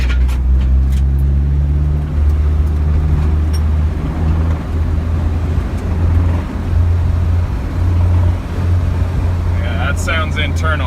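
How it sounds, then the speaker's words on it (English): A damaged car engine drones low and steadily while driving, with rough internal noise beneath the road rumble and brief clicks near the end. "the motor seems like it's hurt"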